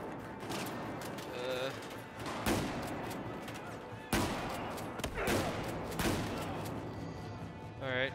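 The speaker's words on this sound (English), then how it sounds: "There's a guy shooting me." Rapid gunfire in the shooter Battlefield 4 campaign, dense and loud, with several heavy bursts and continuous rattling shots across a noisy battlefield, mixed with shouted voices.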